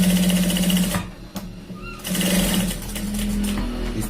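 A sewing machine stitches a shirt shoulder seam in a loud, fast, steady whir that breaks off briefly in the middle as the machine is stopped, then resumes.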